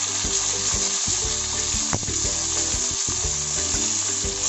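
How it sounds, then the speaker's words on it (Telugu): Green chilies and chopped tomato fry in hot oil, a loud close sizzle with rhythmic bubbling pops and a sharp clink near the middle, no voices. "ఇందులో మనం కట్ చేసి పెట్టుకున్న పచ్చిమిర్చి జస్ట్ 10-15 సెకండ్స్ ఫ్రై అయింది. ఇప్పుడు ఇందులో నేను టమోటా యాడ్ చేస్తున్నాను."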